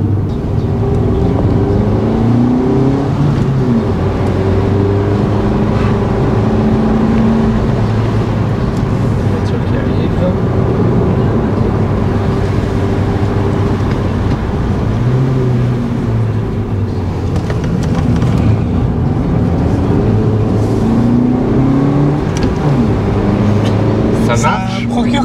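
Suzuki Swift Sport turbo engine accelerating, with the turbo coming in around 2000 rpm, a steady loud engine drone filling the whole stretch beneath ongoing talk inside the car.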